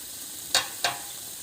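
Carrot halwa stirred in a pan: two quick, crisp scraping strokes about a third of a second apart over a faint background sizzle.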